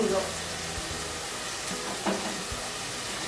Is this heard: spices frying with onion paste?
yes